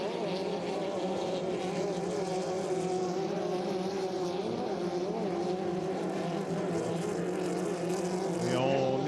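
Hydroplane racing boats in the 2.5L class at Beauharnois roar steadily through the final turn of a qualifying heat, a dense continuous engine drone with a rising whine near the end, under commentary.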